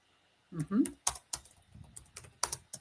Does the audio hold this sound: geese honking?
no